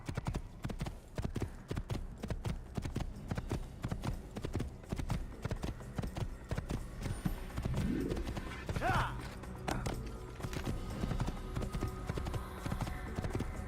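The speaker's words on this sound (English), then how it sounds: "there's a couple of horse chases in the game" Rapid, rhythmic hoofbeats of galloping horses in an Assassin's Creed horse chase pound continuously, with a brief whinny partway through and a busy mechanical background.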